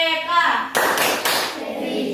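A class of pupils claps the rhythmic 'Tepuk PPK' cheer, a few loud bursts of hand claps mixed with children's voices chanting along.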